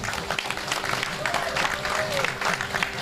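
A crowd of women at a religious gathering in a village claps together in a steady burst of applause, moderately loud and even across the moment, with a faint tone underneath.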